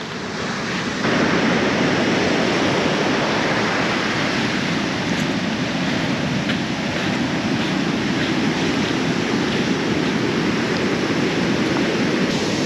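Ocean surf breaks steadily on a remote stretch of the Lost Coast in California as the morning tide comes in, a loud, continuous broadband wash of waves with no pauses, wind adding to the roar.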